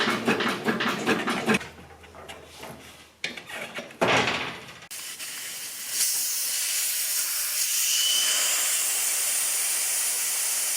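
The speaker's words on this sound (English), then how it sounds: "So I let the air out of it." Air hisses out of a motorcycle's rear tire as it is deflated before removal, a steady broadband rush close by that starts after a few clanks and rustles of handling and continues to the end.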